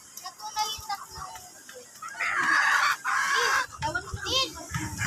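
Chickens on a woodland farm cluck and crow in repeated short calls, with a louder burst of fowl noise midway, while a voice speaks nearby under the birds.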